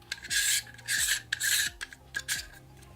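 An ND filter is screwed onto a 24-105 camera lens through a 77 to 67 millimeter step ring, giving four short, close, gritty rasping twists in quick succession, with small clicks between them and no talking.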